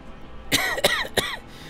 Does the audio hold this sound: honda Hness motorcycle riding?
no